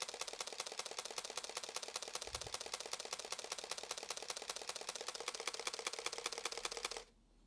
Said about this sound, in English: It also has an incredibly fast shutter.